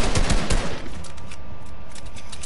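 Rapid video-game gunfire, dense automatic bursts crowding the first second, then a steady, loud wash of shooting noise for the rest of the clip.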